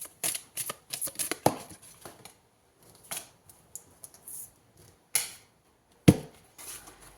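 Tarot cards being shuffled and drawn, a series of crisp, sharp card snaps and flicks in irregular bursts with quiet gaps between, close and fairly faint.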